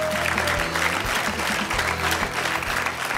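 A studio audience on a television game show claps in a brisk burst of applause, while low musical or electronic tones hum beneath the clapping.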